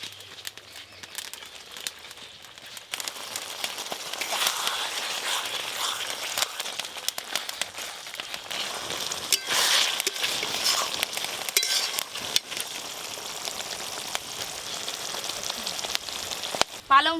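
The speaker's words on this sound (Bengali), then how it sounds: "এবার ভেজে রাখা চিংড়ি মাছ দিয়ে দেবো।" Sizzling and stirring in a pan as fried prawns go into a spinach prawn curry, a steady broadband crackle throughout with scraping stirs and a louder burst near the end.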